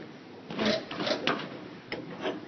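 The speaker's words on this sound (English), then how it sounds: "to tighten it, you just gotta hit the wrench down a couple of times" A wrench is struck down sharply several times to tighten a lathe chuck, giving a few separate metallic knocks spaced about half a second apart, close by and moderately loud with no talking.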